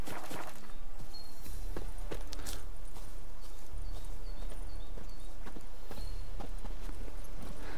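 Horse hooves clip-clop at a steady walking rhythm as a rider travels on horseback in the video game The Witcher 3: Wild Hunt, clear and close over a constant low background drone.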